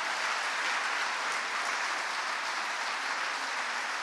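An audience at a communication festival applauds for Luciana Castellina, a dense, even wash of many hands clapping at moderate volume, steady across the whole stretch with no voices.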